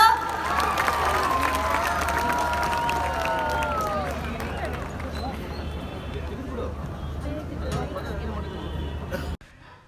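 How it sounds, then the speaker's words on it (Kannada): A large crowd in Brahmavar claps and cheers for actor Rishab Shetty on stage, a broad roar of applause with shouts and babble, loudest at first and fading near the end. "ಸ್ಟಾರ್ ರಿಷಬ್ ಶೆಟ್ಟಿ ಅವ್ರಿಗೆ ಬರಲಿ ಒಂದು ದೊಡ್ಡ ಚಪ್ಪಾಳೆ ಬ್ರಹ್ಮಾವರ"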